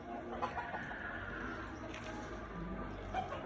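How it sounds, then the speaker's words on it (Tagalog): Chickens clucking softly in the background of a quiet small backyard chicken farm in the morning, with scattered low calls over steady ambient noise. "yung mga manok. Ang aming mga manok."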